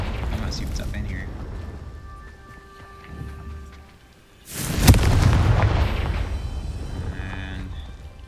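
A Confringo blasting spell goes off in Hogwarts Legacy with a sudden loud boom, followed by a rumbling roar that lingers for several seconds. A voice talks over a low game ambience before the blast.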